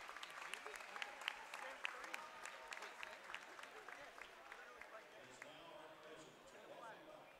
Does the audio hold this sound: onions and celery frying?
no